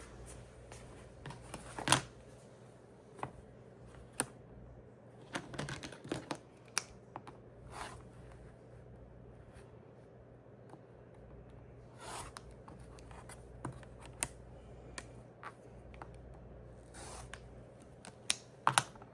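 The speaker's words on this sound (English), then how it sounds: "And now over to the cutting board to trim these off and size them up." Quilt fabric pieces trimmed on a cutting board: scattered close-up clicks, scrapes and soft taps at an irregular pace, with a few sharper snaps standing out over a quiet, steady background hum.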